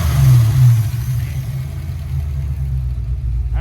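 A car engine fitted with a Killshot EFI system idles with a deep, steady rumble after a brief rev at the start, loud and close with no talk.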